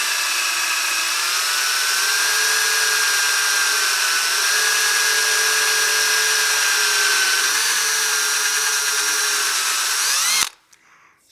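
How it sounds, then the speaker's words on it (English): A power drill whines steadily at high pitch while boring into a wooden block for about ten seconds, loud and close, then stops abruptly. "we don't want to be pressing that drill bit too hard"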